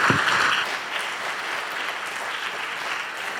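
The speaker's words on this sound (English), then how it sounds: "Round of applause." Audience applause follows a presentation at a brand carnival and autumn event in Germany, a steady, moderately loud patter of many hands lasting a few seconds.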